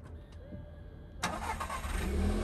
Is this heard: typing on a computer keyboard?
no